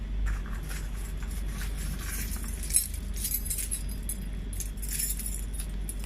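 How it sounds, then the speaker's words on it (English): Metal keys jangle and clink lightly in a hand right after a lock is opened, scattered bright jingles over a steady low hum, with no talking. "So I had opened this with my key."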